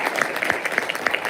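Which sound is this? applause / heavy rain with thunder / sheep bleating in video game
applause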